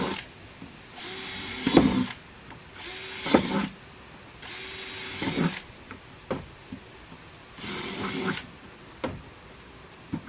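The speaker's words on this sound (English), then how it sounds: "if you drill like 5 holes, it should be enough" Power drill boring holes through a plastic bucket with a 3/8 inch bit: four loud, high whirring bursts of a second or two each, separated by pauses with faint handling clicks and no talk.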